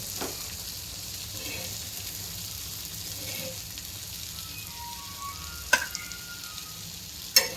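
Fish is frying in a pan for a village-style dish. A steady, crackling sizzle runs throughout at close range, with two sharp utensil clicks near the end.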